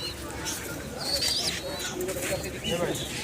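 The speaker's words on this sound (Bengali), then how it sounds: "অনেক সুন্দর সুন্দর অনেকগুলা কবুতর নিয়ে আসছে" Soft pigeon coos and murmurs rise over a noisy background at the Fatullah pigeon market in Narayanganj, Bangladesh, with faint voices talking nearby.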